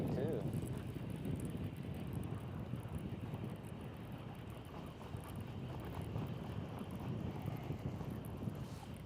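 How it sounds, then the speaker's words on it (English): Steady wind buffeting a microphone outdoors on the St. Lawrence River during a fishing tournament, a continuous low rumble and hiss with no breaks. "Wind makes it chilly too."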